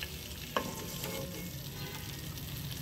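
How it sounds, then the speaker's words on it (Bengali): Prawns frying lightly in a little oil in a pan give a soft, steady sizzle throughout, with one brief clink of a utensil early on; quiet and close, with no talk. "যেহেতু চিংড়ি মাছ এগুলো বেশি ভাজলে শক্ত হয়ে যায়, তাই আমি হালকা একটু তেলে ভেজে নিলাম।"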